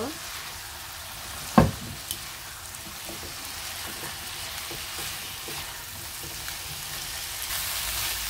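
Drumsticks and potatoes stir-fried in a fish curry, with a dense steady sizzle, one sharp clank of utensil against pan early on, and occasional faint stirring.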